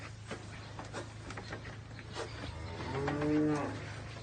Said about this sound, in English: I've been hearing a small moo.